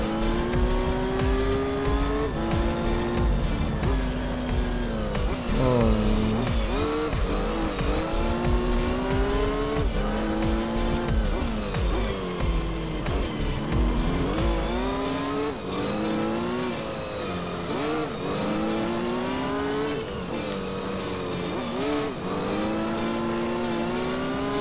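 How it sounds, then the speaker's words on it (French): A car in Gran Turismo 3 skids, its tires squealing in long wavering tones over a steady engine drone, loud and continuous with no talk. "Elle dérape un peu quand même"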